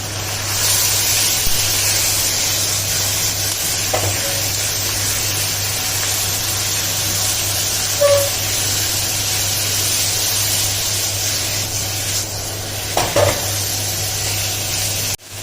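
Chicken stir-fried in butter in a pan, heard as a steady, even sizzle with a low hum beneath and a few faint utensil touches, no talk.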